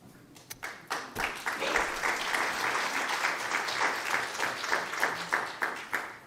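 Congregation in a church breaks into sustained applause, many hands clapping together at a moderate distance, swelling after a couple of seconds and holding steady for the rest.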